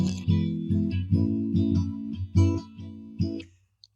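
A Gibson J200 acoustic guitar played alone, with strummed chords ringing in a slow rhythm, each strum sustaining before the next, close and fairly loud, ending in a fading final chord.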